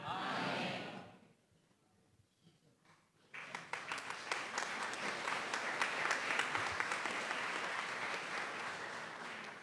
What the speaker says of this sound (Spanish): se puede leer en el aplauso la emoción que causa la palabra